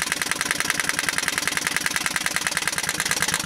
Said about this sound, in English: I'd say she's idling pretty slow.